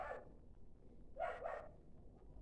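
A dog barks a few times at a distance, quiet sharp barks spaced apart over low background noise.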